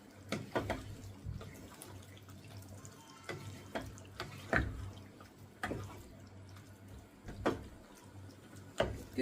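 Hot water is poured into chicken curry cooking in a pan, heard as faint, irregular splashes and drips with a low background hum and no talking.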